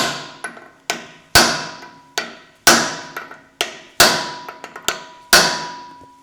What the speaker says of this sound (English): So what I like to do is take a brass hammer, stick it against the end of the cone washer,